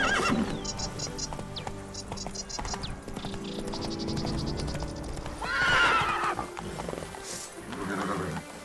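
A horse in The Witcher 3: Blood and Wine neighs and whinnies amid steady clip-clop hoofbeats, with a brighter whinny midway and a faint background of crickets and game ambience.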